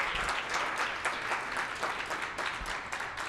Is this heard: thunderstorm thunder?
no